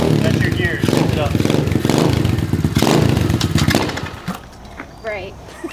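A motorcycle engine runs loudly and unevenly while gears are shifted, with clatter and revving up close, then cuts to quieter sounds near the end; people talk over it.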